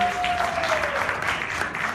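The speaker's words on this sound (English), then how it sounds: "Can we have a louder round of applause" A large audience at the IIFA 2016 awards show claps in a dense, even wash of applause that holds steady for a couple of seconds, sounding broad and a little distant.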